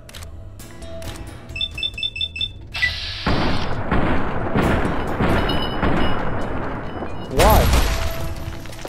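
Gunfire and an exploding enemy in Fallout New Vegas: rapid clicking shots, then a heavy sustained roar of blasts and another loud burst near the end, with a voice speaking briefly over it.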